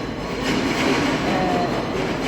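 A train rumbles steadily nearby at Panvel railway station, a continuous loud rolling roar of wheels on rails with no talking.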